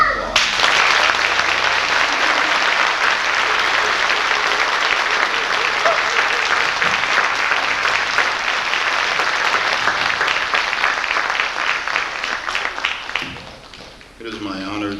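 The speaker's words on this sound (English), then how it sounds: "let's give them a round of applause" An audience at the 1993 COT Class 72 graduation ceremony breaks into long, dense applause, steady and full for most of the stretch before fading near the end, where a voice briefly comes in.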